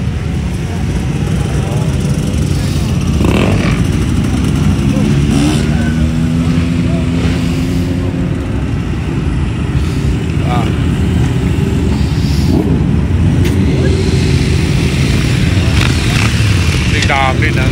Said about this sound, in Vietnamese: Đám mô tô đầu biểu diễn